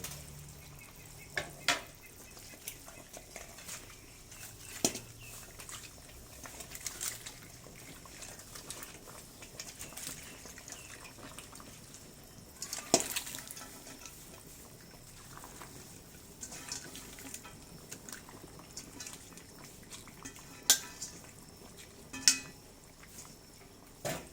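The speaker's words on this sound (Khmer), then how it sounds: "ចឹងយើងដាក់ត្រកួនចូល" Morning glory greens are dropped into a pot of beef soup and stirred, giving soft liquid sloshing and scattered clinks and splashes over a quiet bubbling background.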